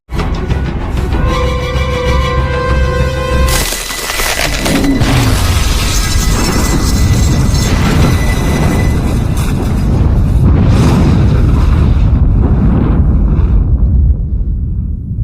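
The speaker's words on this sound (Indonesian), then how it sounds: "sebuah ledakan" A loud, sustained oven explosion in a Donnie Yen action film, with rumbling debris and roaring noise, follows tonal music and continues as a heavy, chaotic roar for several seconds.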